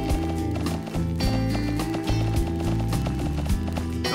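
Game horse trotting in My Horse Club: On the Trail of the Mysterious Appaloosa, a steady clip-clop of hooves over a constant bed of background music, moderately loud and continuous.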